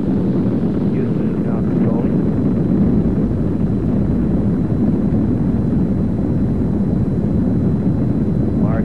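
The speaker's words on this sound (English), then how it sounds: "The Skylab lifting off the pad now, moving up." A Saturn rocket launching Skylab in 1973 gives a continuous heavy low rumbling roar that holds steady and loud throughout, with faint voices barely audible beneath it.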